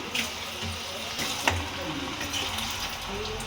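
Finely chopped cabbage stir-fried in oil in a pan, a soft steady sizzle with occasional scraping stirs, fairly quiet and close.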